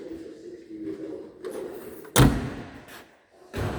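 A door on a 1983 Ford Escort RS 1600i slams shut with one sharp, close thud, followed by a softer second knock, with no talking.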